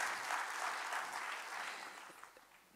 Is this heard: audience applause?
yes